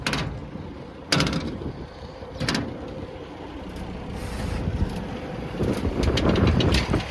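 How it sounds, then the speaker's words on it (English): The doors of a Peterbilt truck are shut, giving two sharp, fairly close thuds about a second and a half apart over a low, steady engine and road rumble. "shut our doors."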